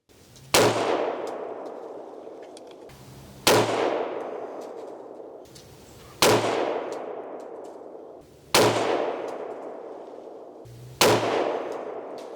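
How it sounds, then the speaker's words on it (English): Phantom Defense Spicy Boi 300 Blackout rifle fired at an outdoor range toward a berm, five loud evenly spaced shots about two and a half seconds apart, each with a long echoing decay. "we're going to be shooting a little bit below the center mark there on the target"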